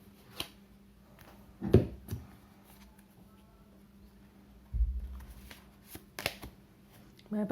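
Tarot cards being shuffled by hand, a few soft riffling and tapping bursts with quiet gaps between, close and faint.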